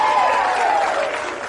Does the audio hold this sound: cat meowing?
no